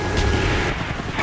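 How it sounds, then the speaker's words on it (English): Enemy mortar fire in a first-person shooter: a steady rumbling barrage of muffled booms filling the short stretch, fairly loud, with no speech over it. "Enemy mortars incoming."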